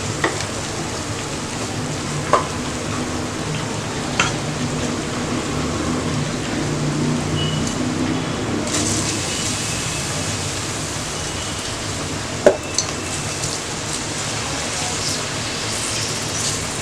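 Soaked basmati rice is stirred into minced mutton biryani in a pot, giving a steady, sizzling hiss with a few sharp clicks from the spoon.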